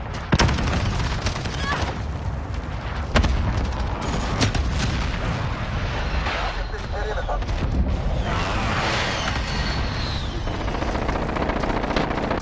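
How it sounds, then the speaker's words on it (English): Enemy precision airstrike in Call of Duty Modern Warfare: dense, sustained barrage of blasts and rattling fire with sharp cracks near the start and around three seconds, layered with radio chatter and voices throughout. "Enemy precision airstrike."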